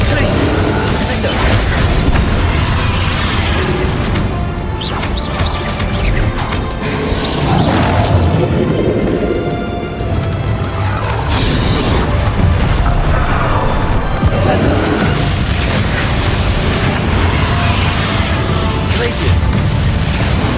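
Rapid spell blasts, Confringo fire bolts and Bombarda explosions, cast in combat in the video game Hogwarts Legacy; loud continuous booms, crashes and bursts fill the whole stretch with dense battle noise.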